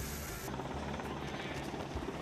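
A Belgian Air Force 40th Squadron helicopter from Koksijde hovers over a Zodiac boat at sea during a hi-line exercise, its rotors giving a loud, continuous roar with a steady beating pulse.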